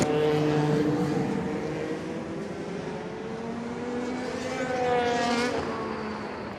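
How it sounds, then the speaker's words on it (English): A 1983 turbocharged Ferrari race car roars loudly past at the Goodwood Festival of Speed, its engine note sustained and rising as it nears, then falling away in a clear pass-by with no talking. "So from a quieter car, we've got a more noisy car on the line"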